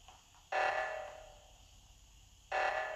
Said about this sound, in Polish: Znowu alarm.